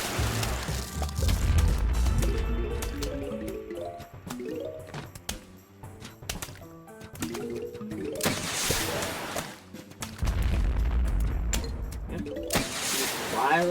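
Cob cannons fire in the video game Plants vs. Zombies with repeated splintering, thumping launch and impact effects. Plinking melodic game tones and bursts of noisy explosion-like sound are layered over them.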